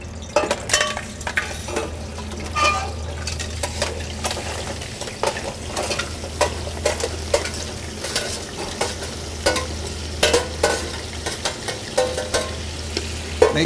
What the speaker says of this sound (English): My clarified butter is getting nice and hot. We proceed to put in our shells in there.